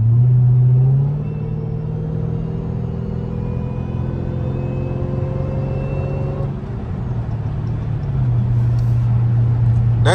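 A Hellcat V8 fitted with a loud aftermarket intake, driven on a wet road under light throttle, gives a deep, steady, close engine drone that shifts in tone partway through before settling back.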